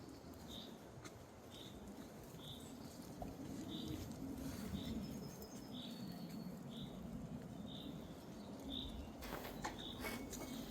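Faint, regularly repeating bird calls sound through a steady background of rustling and patter, like birds singing in a damp forest.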